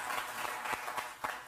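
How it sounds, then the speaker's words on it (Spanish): An audience at a financial conference claps in a brief burst of scattered applause, fairly light and close-miked, with a few sharper individual claps standing out, and no talking over it. "yo creo que se merece un aplauso"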